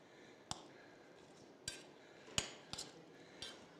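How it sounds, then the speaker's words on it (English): A spoon knocks and clinks against a pan while gnocchi are stirred with pesto, a handful of sharp scattered taps over a faint quiet background. "We put in the pesto. We give it a sort of stir."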